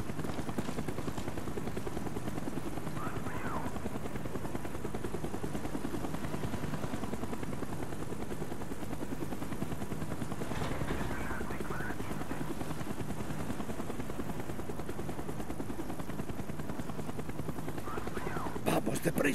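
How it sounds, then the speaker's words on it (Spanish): A helicopter in the Call of Duty: Black Ops video game drones continuously throughout, a steady rotor wash with occasional brief bursts of noise layered on top. "Evite el foco del helicóptero."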